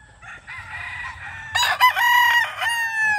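Boston Roundhead chickens crow and cluck nearby, with a rooster's drawn-out, harmonic cock-a-doodle-doo rising loud and clear over softer clucking, ending in a second crow.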